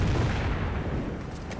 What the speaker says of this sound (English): this Panther is actually getting hit by anti-tank gunfire, getting sticky bombed